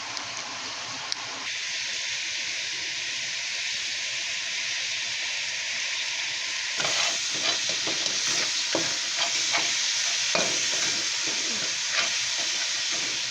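Goat meat and rock sugar stirred together in a hot pan for a Chinese-style dish: a steady frying hiss that turns louder halfway through, with repeated scraping stirring strokes and no talking.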